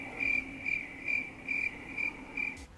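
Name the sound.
crickets chirping in Minecraft video game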